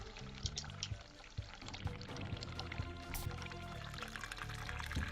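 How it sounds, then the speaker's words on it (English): Hot water runs from a tap into a sink in the horror adventure game The Cat Lady, a steady pouring splash that continues throughout at low volume with no voices. "Let's go to the sink, run some hot water"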